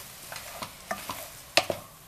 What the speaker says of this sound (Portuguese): Agora nós já podemos abaixar o fogo e colocando a nossa farinha de milho aos poucos, ó. E mexendo.